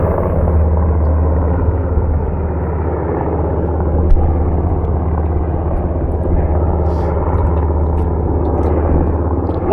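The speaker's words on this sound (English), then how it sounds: "Helicopter, helicopter." Helicopter flying near an active wildfire in Penrose, Colorado, a steady loud rotor and engine drone with deep low rumble holding throughout, no talk.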